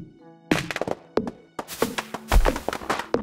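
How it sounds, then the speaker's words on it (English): A tree being chopped down with an axe in the Stardew Valley video game gives a series of dull, punchy thunks and taps at an uneven pace, close and clear. "We're gonna cut down this tree and you're gonna see our energy is just flying down."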